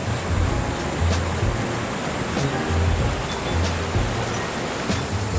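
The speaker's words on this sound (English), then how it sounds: "It's really nice chilling by the creek down there." Creek water flows beside a roadside Colorado boulder climb, a steady full rushing hiss that stays continuous and fairly close with no talk over it.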